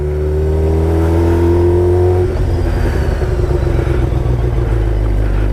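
A motorcycle engine revving under throttle while climbing a slope in a parking lot, a loud close steady drone that shifts into a rougher, pulsing rumble partway through.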